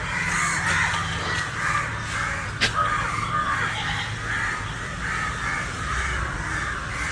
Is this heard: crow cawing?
yes